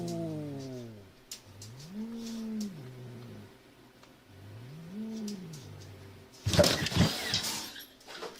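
A cat gives several drawn-out meows with rising and falling pitch, spaced a few seconds apart, followed near the end by a short, harsh, noisy scuffle or hiss.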